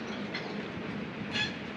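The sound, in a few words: goods train passing below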